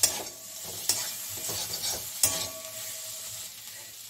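Raisins and small-cut cashews frying in a pan give a steady, moderate sizzle, broken by a few sharp stirring clicks and scrapes.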